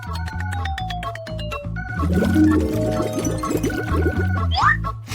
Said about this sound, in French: Je le verse dans un moule